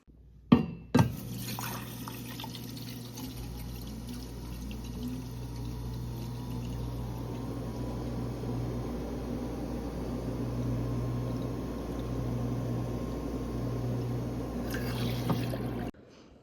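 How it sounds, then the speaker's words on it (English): Water runs steadily into a bottle at a workplace fill station, a continuous pouring hiss lasting over a dozen seconds after a couple of sharp clicks at the start, ending with another click. "I'm about to go fill my water"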